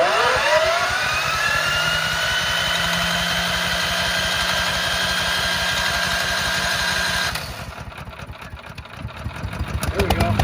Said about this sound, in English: It's chugging along